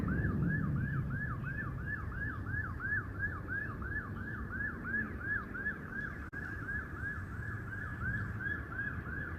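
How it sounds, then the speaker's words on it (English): An ambulance siren wails in a steady rapid yelp, repeating without a break against a low rumble of traffic and outdoor noise, moderately distant, with no voices. "Oh, it's an ambulance."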